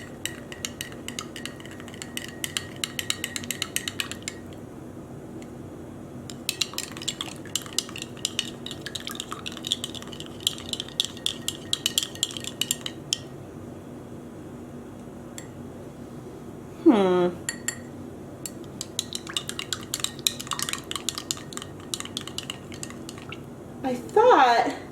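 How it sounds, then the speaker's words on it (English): A spoon stirs canola oil and food coloring for dyeing Easter eggs, giving intermittent clinks and scrapes against the container in bursts, with a couple of louder knocks near the end. "Let me mix this up."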